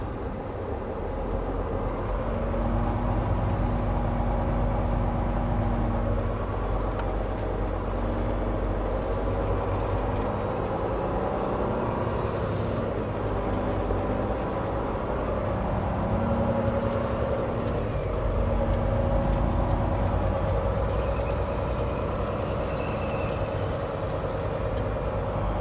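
A 2020 Volvo VNL 860 semi truck pulls away, its low, steady diesel engine drone filling the cab at a constant, moderately loud level throughout with no talk.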